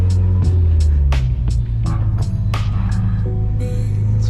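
A Ford Focus RS fitted with a carbon fiber intake and full bolt-ons on a conservative stock tune drives along, loud close engine and road noise from inside the cabin with sharp clicks and transient bursts throughout.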